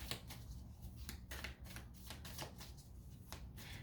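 Tarot cards shuffled by hand to draw a clarifier card, a soft, steady riffling and flicking of card stock with brief pauses, quiet and close with no talking.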